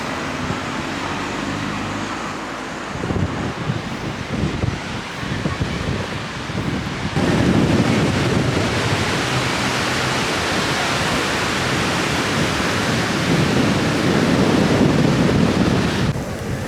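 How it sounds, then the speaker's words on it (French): Strong wind roars across a beach near Kamakura, buffeting the microphone with heavy broadband rumble and surf-like noise that swells louder partway through and keeps up continuously, with no talking. "Il y a un vent de fou furieux les gars"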